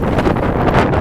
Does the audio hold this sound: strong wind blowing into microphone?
yes